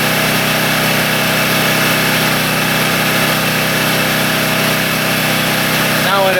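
A table saw rips scrap lumber to make wood paneling. It runs as a loud, continuous motor whine and cutting roar throughout. A brief voice is heard at the very end.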